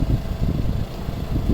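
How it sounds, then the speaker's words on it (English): The engine of a 1985 Toyota van, abandoned for eleven years, churns with a continuous low, rough mechanical rumble that holds steady for the whole stretch, close and fairly loud, with no voices. "You can hear the engine cranking."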